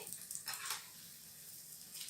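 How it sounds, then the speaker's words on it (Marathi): Dal bhaji fritters frying in hot oil in a kadhai give a soft, steady sizzle, quiet and close, with a couple of brief bubbling flares and no talking. "आणि सेम असंच दुसऱ्या साईडने पण फ्राय करून घेते"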